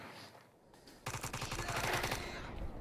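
A battle in S.T.A.L.K.E.R. opens after a quiet moment into rapid, sustained automatic gunfire, dense rhythmic bursts of shots at moderate distance lasting to the end.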